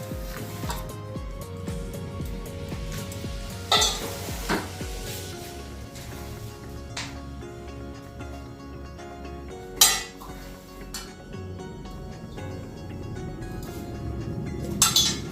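Ground peanuts, sesame and fennel are stirred together in a bowl, with a spoon scraping and clinking against the metal in an uneven rhythm, plus a few louder knocks and no speech.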